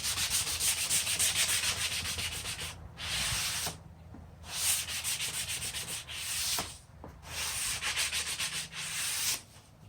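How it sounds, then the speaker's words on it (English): Wood being sanded by hand with a sanding block on a boxy speaker-cabinet build, a steady close rasping scrape in repeated back-and-forth strokes with brief pauses between passes, no talking. "Sanding block."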